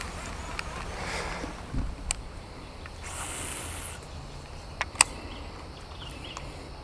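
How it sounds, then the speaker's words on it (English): Wind buffets the microphone on a fishing boat on South Louisiana water, a steady low rumble with gusts, plus a few faint knocks and clicks from gear on board. "Oh, I gotta get out of this wind."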